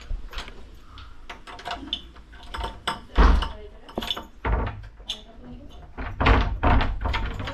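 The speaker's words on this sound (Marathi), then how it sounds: "मामी आजी आता त्याचा लॉक उघडत आहे" A lock is opened on a village grain storeroom door, heard as metallic clinks and clunks of the mechanism and door, close by, with people talking over it.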